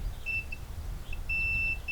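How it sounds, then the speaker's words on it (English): A continuity tester beeps as it touches connected fence wires outdoors: two thin, high beeps, the second longer, set over a low background rumble. "when the circuit's together, you get a beep"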